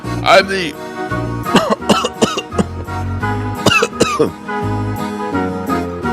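Repeated harsh coughs and throat-clearing mix with a man's speech and background music, the coughs loud and close in irregular bursts.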